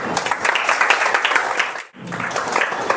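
An audience claps for a topper at an award ceremony. The clapping is dense, close and steady, with one brief dip before it picks up again.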